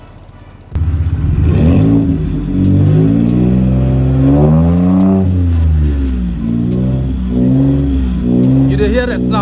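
A customized 2018 Ford F150 fitted with a Raptor kit revs its engine up and down several times, loud and close, with a deep rising and falling roar.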